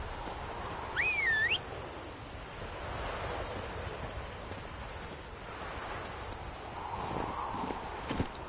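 Roach, the horse in The Witcher 3, trots along with steady, moderately close hoof clip-clops over wind and a wash of ambient noise, with a brief whistling game sound near the start.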